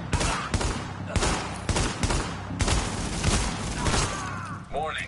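Rapid bursts of automatic gunfire crackle through a firefight in The Division, with a cluster of sharp shots and sustained volleys close up, and a player talking over the fighting.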